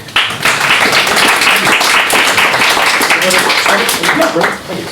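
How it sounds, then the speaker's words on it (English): Audience applause for a councillor at a localism and licensing panel event, dense steady clapping from a room full of people lasting the whole stretch, with some voices mixed into the crowd noise. "Ladies and gentlemen, a round of applause please for Councillor Jonathan Cook."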